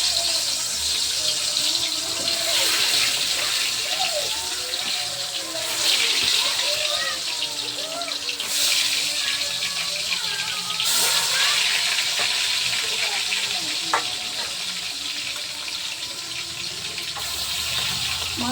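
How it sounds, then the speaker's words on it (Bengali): Fish fries in hot oil, giving a continuous hissing crackle with occasional sharper spits and pops that stays fairly even and close throughout. "মাছ দিয়ে দিচ্ছি আমি।"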